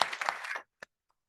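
Applause from an audience at a ceremony honoring women of the Malvinas war, a dense burst of clapping that fades out after about half a second, followed by one sharp isolated clap.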